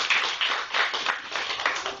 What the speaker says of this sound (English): Give her yet another round of applause.